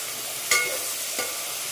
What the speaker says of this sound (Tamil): சேர்த்துட்டு அடுத்து தக்காளியை உள்ளே போடுங்க. தக்காளியும் நல்லா கிண்டி விட்டுட்டு